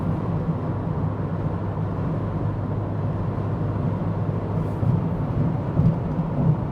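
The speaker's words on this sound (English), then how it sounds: "Wind noise, tire noise. This is a louder road surface, I will say that. And some outside road noise." Steady low rumble of wind and tire roar inside a 2024 Mazda MX-5 Miata cruising on a highway over a louder road surface, a continuous broadband drone with faint outside road noise and no talking.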